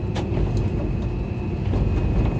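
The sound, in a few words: train arriving at Peshawar Cantt railway station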